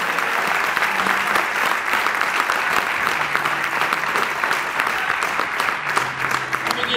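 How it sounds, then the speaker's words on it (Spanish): A church congregation gives loud, sustained applause for Jesus during a Holy Spirit celebration service, dense clapping from many hands close by with faint voices mixed beneath it. "Dale un aplauso fuerte a Jesús."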